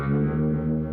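Electric guitar through a univibe effect on a pedalboard built around Digitech and Mosky pedals, a thick swirling, pulsing sustained chord, loud and close, with no talk.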